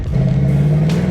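A carbureted Ford Mustang engine in need of tuning revs hard, a loud, close, sustained rumbling drone with a steady low pitch, with no talking.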